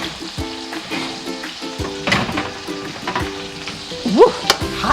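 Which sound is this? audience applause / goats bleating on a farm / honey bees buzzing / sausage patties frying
sausage patties frying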